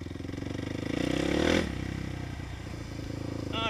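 A motorcycle engine revs hard under strong acceleration, rising to a loud peak and then settling into a rougher, lower drone with some clatter, close and alone without talk.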